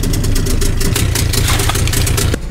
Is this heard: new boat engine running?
yes